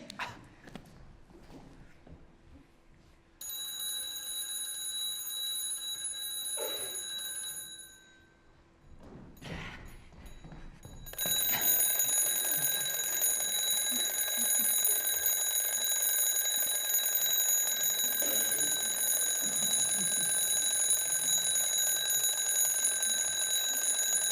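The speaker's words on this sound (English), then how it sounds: "But is it working? The alarm, is it working?" A stage alarm clock rings loudly in a theatre production of Endgame, a steady metallic ringing that starts, briefly stops, then resumes stronger and continues unbroken to the end, with no talking over it.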